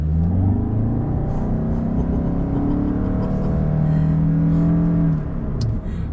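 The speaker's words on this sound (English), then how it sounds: "So I'm gonna put my foot on the brake and the accelerator." 2021 Toyota Sienna Platinum all-wheel-drive hybrid minivan held on the brake while the accelerator is pressed, its engine revving up in a loud, rising drone with a whirring electric tone, easing off near the end.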